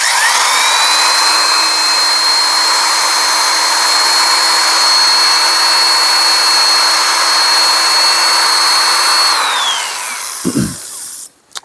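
Power sanding of a Columbian gyro vise at 600 grit, a loud continuous high whine with a steady tone that holds unbroken for about ten seconds before winding down, followed by a brief knock.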